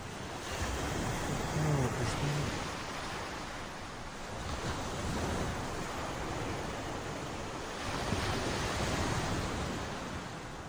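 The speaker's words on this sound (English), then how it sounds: "Ocean." Ocean waves wash onto a shore beside a campsite, a continuous broad roar that swells and recedes in slow surges, with some wind buffeting the microphone and no talking.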